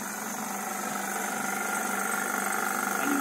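A refrigerant recovery unit runs during HVACR refrigerant recovery, giving a continuous mechanical hum and drone that holds steady and swells slightly louder, with no one talking.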